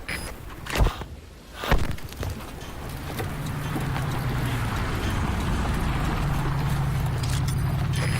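In Metal Gear Solid V: Ground Zeroes, a steady low vehicle engine rumble builds and holds after a couple of brief thumps, with a faint hum running underneath, like vehicles idling nearby.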